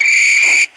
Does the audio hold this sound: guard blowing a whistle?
yes